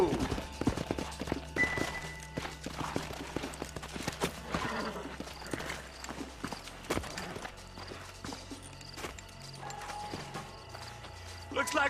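Horse hooves clip-clop steadily over ground with an occasional whinny in Red Dead Redemption, while gunfire-like cracks and a voice come through in the background.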